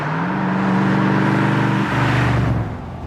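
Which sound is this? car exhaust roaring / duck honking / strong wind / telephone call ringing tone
car exhaust roaring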